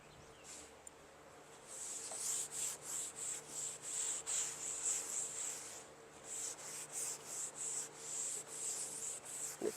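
A cloth rubs finish into a wooden deck bench outdoors in quick, rhythmic back-and-forth swishes, close and steady, with one short pause partway through.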